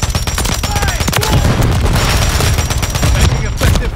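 Rapid automatic gunfire in Call of Duty Modern Warfare 3 multiplayer, dense loud bursts of shots filling the whole stretch, with game voice chatter faintly mixed underneath.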